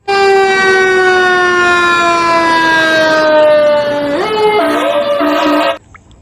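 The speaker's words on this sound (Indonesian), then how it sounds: "ini mobil pemadam kebakaran" A loud wailing siren from a toy fire truck sweeps slowly downward in pitch, then warbles and cuts off abruptly, with a thin electronic toy-like tone.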